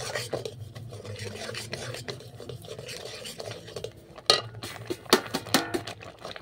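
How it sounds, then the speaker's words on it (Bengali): Fried semolina being stirred into a watermelon mixture, a close rasping scrape of a spoon against the pan in repeated strokes, with a few sharper knocks near the end and no talk. "এরপর এইভাবে আমি নাড়তে থাকবো, তাহলে একটা ডোয়ে পরিণত হয়ে যাবে"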